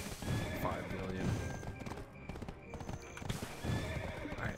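A horse in the online game Black Desert Online, with repeated hoof clip-clops and a couple of whinnies, fairly quiet and mixed with game ambience.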